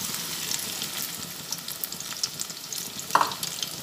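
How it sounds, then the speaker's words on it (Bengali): Kulekhara leaf fritters sizzle steadily in hot oil, a dense continuous crackle with a brief louder spatter near the end and no one speaking. "একইভাবে আর একটাকেও তেলের মধ্যে দিয়ে দিচ্ছি"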